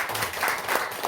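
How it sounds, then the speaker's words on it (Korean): A few people clap during a Sunday worship service at a small Methodist church, a brief, fairly quiet patter of applause lasting about a second. "우리 두 분이서 한번 박수하겠습니다."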